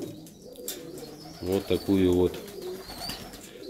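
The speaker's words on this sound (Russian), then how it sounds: "Вот они голуби все здесь." Domestic pigeons coo in a short, close, throaty burst of several pulses while someone talks nearby during feeding time at the loft.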